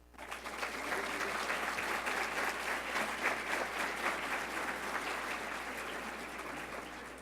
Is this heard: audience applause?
yes